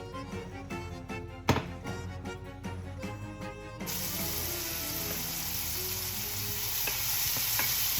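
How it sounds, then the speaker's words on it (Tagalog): Garlic, onion and tomato hit hot cooking oil in a pan and burst into a loud, steady sizzle that keeps swelling. A few sharp clinks and taps come before it, and no one speaks. "Dahil magigisa tayo ng gulay dyan"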